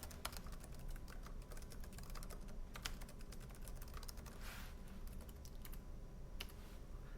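Rapid, irregular keystrokes clatter on a computer keyboard as an address is entered into an online job posting form, light clicks in quick bursts over a faint background hum, with no speech.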